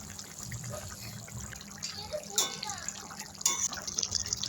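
Kajol Gouri fish pieces slipped one by one into a simmering curry with boiled potatoes, giving soft splashes and bubbling liquid, with two brief louder plops standing out against a low background hum.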